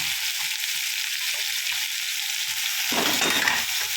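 Chopped large onions hit a hot pan of sautéed ginger and garlic for vegetable fried rice, giving a steady close sizzle that swells louder and busier toward the end.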